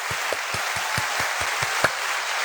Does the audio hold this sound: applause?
yes